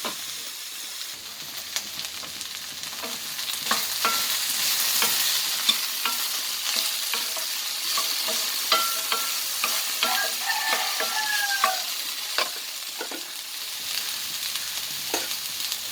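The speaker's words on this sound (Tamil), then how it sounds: "இந்த வெண்டைக்காய் வதங்கும்போது கொஞ்ச நேரத்துக்கு மூடி போட்டு மூட வேண்டாம்" Sliced okra sautés uncovered in a pan with a steady, close sizzle, broken by frequent clicks and scrapes of a spoon stirring against the metal, moderately loud and going on throughout with no talking.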